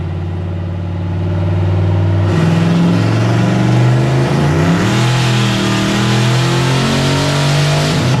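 A car fitted with a Tremec TKX transmission revs hard on a dyno, its engine note climbing steadily and loudly up through the range in one long continuous pull, with no talking.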